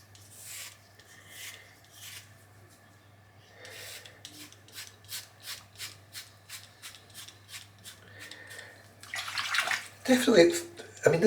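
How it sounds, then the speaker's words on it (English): Gillette Labs razor with an exfoliating bar shaving a head, a run of short, close scraping strokes passed repeatedly over the same patch, growing louder and rougher at the end. "These parts of my head I'm shaving here, I'm going over the same bit over and over again"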